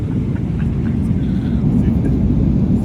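Inside an airplane cabin in flight, a steady, loud, low engine roar and air rush fill the space without a break, with faint voices mixed in.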